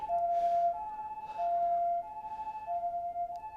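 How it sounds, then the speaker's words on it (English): An ambulance siren in Japan wails in a repeating two-tone pattern, clear and fairly close, with no talking over it. "there goes the ambulance right there"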